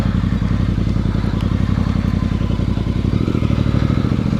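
A Voge DS625X motorcycle rides off-road with a loud, steady engine thrum and rhythmic chugging pulses, plus clatter from the bike over rough, rutted ground, with no talking.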